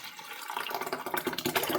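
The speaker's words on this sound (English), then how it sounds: "So we're just going to pour this right through the bag, right back into our measuring cup so it's easy to pour." Homemade oat milk poured through a straining bag into a measuring cup, a steady trickling stream of liquid that builds and grows more splashy over a couple of seconds.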